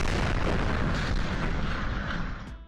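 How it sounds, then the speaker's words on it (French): Chelyabinsk meteor explosion over Russia as caught by dashcams: a loud, sustained roaring boom with a broad rumble that holds steady and then tapers off near the end, without voices. "Ceux qui conduisaient en Russie avec des caméras embarquées ont capturé le météore en vidéo, laissant le monde entendre son explosion"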